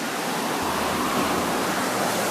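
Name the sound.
ocean waves surging against rocks at Pacifica coast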